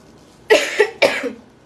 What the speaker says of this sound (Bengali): সো সরি, আমি তো কাশতেছি।